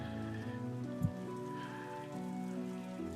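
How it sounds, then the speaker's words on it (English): A very steady drizzle patters softly and evenly on surfaces, a faint continuous rain bed with one small louder drop partway through. "it is currently a very steady drizzle here within Vestodum"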